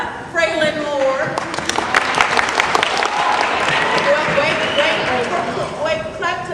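Clapping from a crowd of students at a school pep assembly awards event, sustained applause mixed with chatter and a voice talking over the noise throughout.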